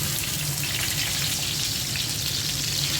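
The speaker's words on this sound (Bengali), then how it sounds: "চিতল মাছের মাথাটা দিয়ে দিচ্ছি" Steady, dense sizzling of a chitol fish head frying in oil in a pan, a constant close crackle with no pauses and no speech.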